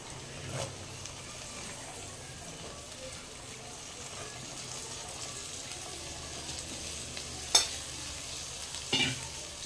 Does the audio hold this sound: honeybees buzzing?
no